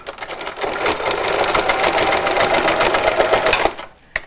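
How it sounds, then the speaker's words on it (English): Sewing machine stitching along the side of a fabric face mask, a fast, steady mechanical rattle running close and loud for several seconds before stopping abruptly, with no voices. "Now let me sew the other side, and this will be finished."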